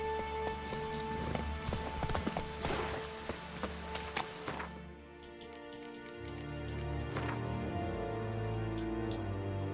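A horse trots in The Witcher 3, its hooves clip-clopping in a steady rhythm over a constant ambient bed with music, then a brief quieter pause before the sound returns.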